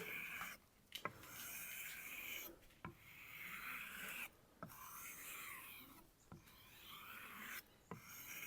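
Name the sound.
Global kitchen knife rubbed on sharpener ridges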